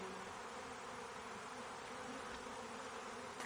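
Honey bees buzzing around a group of hives, including log hives, at a community beekeeping site in Uganda, a faint, continuous hum with no speech.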